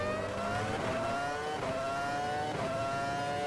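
A 2002-era Ferrari Formula One car engine in the racing game Automobilista, loud and close, revving high with a steady whine that climbs and drops sharply at each gear change.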